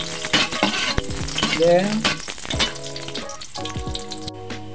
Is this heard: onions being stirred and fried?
yes